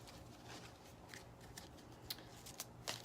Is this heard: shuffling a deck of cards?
yes